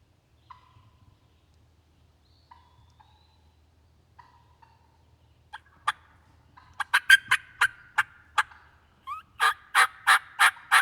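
Wild turkey calls during a late-season hunt, starting with a few faint, scattered notes over quiet outdoor air, then growing into a rapid series of loud, evenly spaced gobbles.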